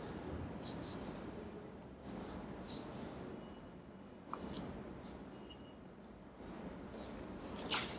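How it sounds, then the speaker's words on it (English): A pen scratching across paper while drawing a line graph, soft rubbing strokes with a few sharper scrapes and taps, close and quiet in a still room with no talking. "you just have to draw the graph by joining the line"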